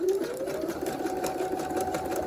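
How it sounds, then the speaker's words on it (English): A sewing machine stitches through elastic on a prom dress, its needle running in a fast, even, continuous drone close by with no pauses. "Make sure that your needle is going, or that your stitches are going through the elastic."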